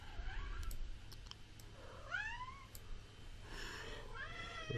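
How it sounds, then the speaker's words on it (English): A cat meows several times, drawn-out rising and falling cries spaced across the clip, fairly faint over low background noise. "And that is my cat."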